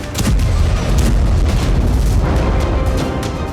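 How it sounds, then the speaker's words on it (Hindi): A heavy bomb explosion from an Israeli airstrike on a Hamas position in Libna, a loud sustained low rumbling boom lasting several seconds before easing off, with no voices. "लिब्ना में हमास के ठिकाने पर इजरायल ने बमबारी की"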